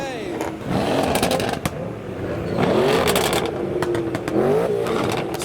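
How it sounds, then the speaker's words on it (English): Several sports car engines, including a BMW E39, Mercedes C63, BMW M340i and an Audi, rev loudly nearby, rising and falling in throaty bursts, with voices and crowd chatter mixed underneath. "got the E39 and C63 revving, the M340i, the Audi as well."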